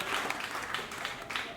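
Comedy club audience at Helium clapping in a dense, continuous patter for under two seconds, steady and fairly close, with a little crowd murmur mixed in.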